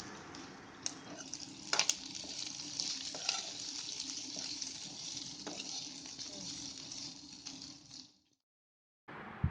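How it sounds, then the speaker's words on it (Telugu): Steady, loud sizzling of prawns frying in a pan, with occasional scraping stirs, cutting off abruptly near the end. "ప్రాన్స్ గోల్డ్ కలర్ వచ్చాక వేగిపోయినట్టే"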